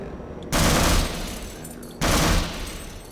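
Bursts of rapid automatic gunfire from a weapon in the first-person shooter Half-Life, two loud dense volleys about a second and a half apart, each trailing into a sustained rumbling tail.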